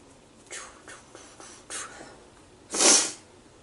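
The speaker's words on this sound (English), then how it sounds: "I can't stop sniffling" Several short nasal sniffs, spaced irregularly, ending in one longer, louder sniffle, close by with no talking.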